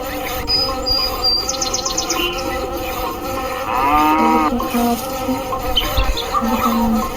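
A cow moos twice in the Meena Game, a drawn-out low call over a busy background of buzzing insects and chirping birds, with game-like ambient tones.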